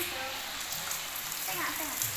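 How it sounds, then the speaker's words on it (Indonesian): An egg frying in a pan on a gas stove in a home kitchen, a steady close sizzle and crackle throughout, with voices faintly in the background. "Belajar goreng telur gas."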